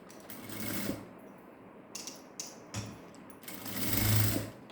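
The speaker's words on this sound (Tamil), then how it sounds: "மடக்கி அடிக்க போகிறோம்." Sewing machine stitching a folded hem on a cotton saree with long stitches, quiet bursts of rapid mechanical whirring separated by short pauses, close and alone.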